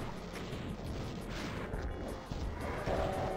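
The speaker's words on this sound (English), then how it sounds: "do I dare fire some rockets? Of course I do" Rockets fire from a rocket launcher in the Doom game, heavy booming blasts and rumbling explosions layered over a dense, noisy background, fairly faint overall.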